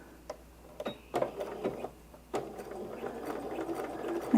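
Sewing machine stitching appliqué on a quilt block, with short bursts and clicks that settle into a steady, close whirring run.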